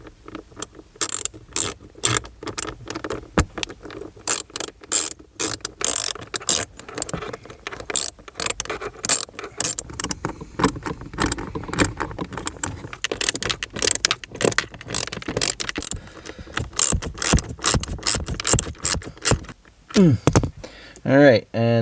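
Screws are driven in to fix a trim panel inside a Ford Fiesta, producing dense ratcheting and clicking mechanical sounds with jangling metal, close and continuous, while a person talks at moments.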